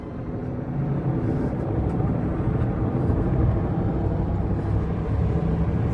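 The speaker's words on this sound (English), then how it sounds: "So there's one of the news helicopters flying up right there." A news helicopter passes above the scene of a shooting investigation at a CVS parking lot, a loud steady low rumble of rotor and engine that continues throughout.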